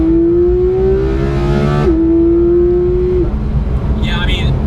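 A sports car engine revs with a raw, shrieking tone, climbing in pitch, dropping briefly, then holding a loud steady howl before easing off.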